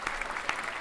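A brief burst of clapping from a small group, dense and even for under a second, fairly faint.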